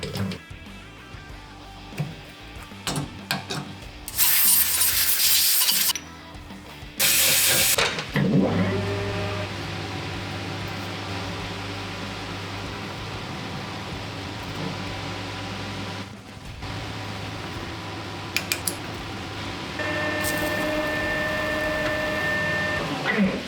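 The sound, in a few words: machining and knurling a high tensile steel squat bar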